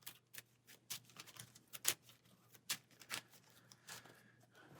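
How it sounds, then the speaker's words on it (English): Deck of cards being shuffled for a Marvel Champions card game, soft riffling and crisp snapping taps in irregular bursts, quiet and close with no talking. "So go ahead and shuffle our hero deck"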